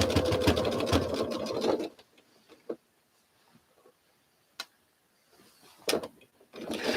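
A sewing machine runs loud and steady stitching quilt fabric for about two seconds, then stops; a few soft clicks and handling noises follow before the machine starts stitching again near the end.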